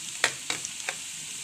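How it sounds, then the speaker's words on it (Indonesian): Sago grubs and tempoyak (fermented durian) cook in a pan in Bidayuh style, a soft hissing sizzle punctuated by about four quick scraping stirs. "Goreng sampai angkat bau."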